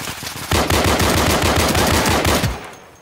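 Automatic gunfire in the tactical shooter game Insurgency, a loud, rapid, steady burst of about two seconds that starts abruptly and then fades into a short trailing echo.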